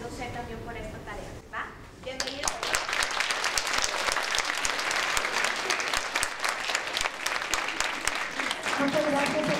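Applause from an audience at a science event, starting after a brief spoken line and then swelling into dense, crisp clapping that carries on steadily and close, with speech returning near the end.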